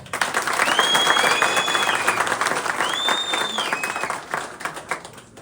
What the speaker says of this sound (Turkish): Biz onlara bir Anadolu esnafları olarak kuvvetli bir alkış yapalım.